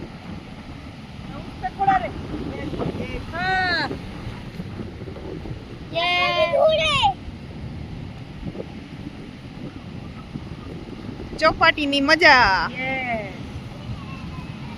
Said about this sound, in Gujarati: એટલો મસ્તીનો ઠંડો ઠંડો પવન આવે